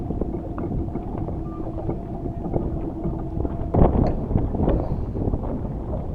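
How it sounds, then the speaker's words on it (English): Steady wind buffeting the microphone beside a boat tied up at a dock, a continuous rushing roar with a louder gust swelling near the middle, and faint creaks and knocks from the moored boat. "the winds start picking up again"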